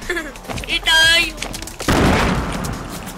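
Gunfire in the video game Fortnite, a burst of sharp shots followed by a louder blast, heard under excited voices talking.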